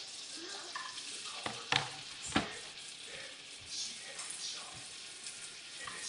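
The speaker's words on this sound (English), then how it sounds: "Now I have my kale, which I am going to add to my frying pan, which is ready." Butter sizzles steadily in a hot frying pan as kale is added and stirred, with a few louder spatula scrapes and clanks and no talking.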